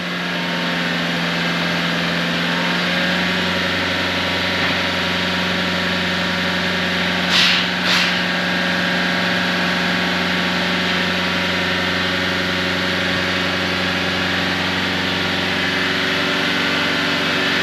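The diesel engine of a 2018 Renault Trafic van is held steady at about 3,000 RPM for a long, loud, even hum with a steady pitch. The van has a particulate filter fault, and a brief hiss breaks the drone partway through.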